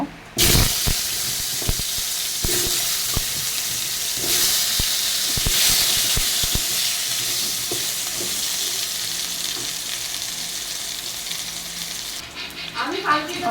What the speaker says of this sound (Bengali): এখন এরপরে আমি আলুটাকে ভেজে নেব।